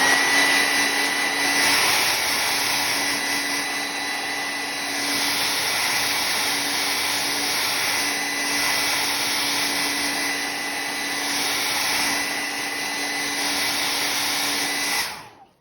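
A hair dryer blows on wet paint on a canvas with a loud, steady whooshing motor whine up close, holding constant for about fifteen seconds before switching off abruptly at the end.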